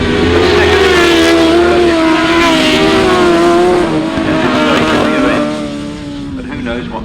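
Grasstrack racing motorcycles with Big Bang engines roar past loudly in a sustained, wavering engine drone at a 2004 international grasstrack meeting, with a commentator talking over the noise.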